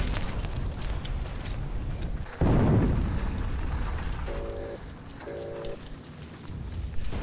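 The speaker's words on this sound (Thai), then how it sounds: "ได้ยินเสียงปืนใหญ่อยู่ไหน" Artillery cannon fire in the World War II shooter Heroes & Generals: a heavy boom lands a third of the way in, its low rumble rolling on over steady battle ambience, followed by two short beeping tones.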